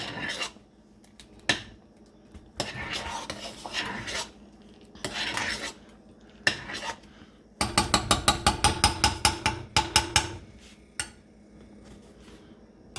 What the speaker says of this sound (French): On va aller encore brasser pour diluer le sucre dans l'avoine.